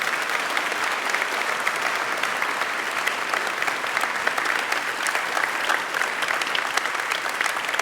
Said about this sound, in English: A round of applause, please, for our sponsors.